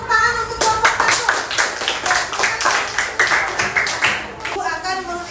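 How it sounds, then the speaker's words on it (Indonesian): Students in a classroom clap for a student group during an Islamic religious education lesson, a quick round of many hands clapping that starts after a teacher's voice and fades as she begins speaking again. "boleh kasih tepuk tangan untuk kelompok 1"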